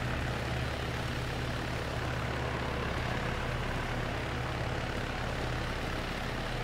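Continuous low engine drone of a military helicopter in the ShackTac video game Arma, a steady, fairly faint hum with no talk.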